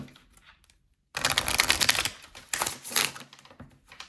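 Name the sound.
shuffling a deck of tarot cards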